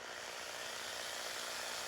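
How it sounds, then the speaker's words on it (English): A power drill whines steadily and faintly as it bores into the steel B pillar of a ute, a continuous even buzz with no pauses. "That's about the speed that I'm drilling."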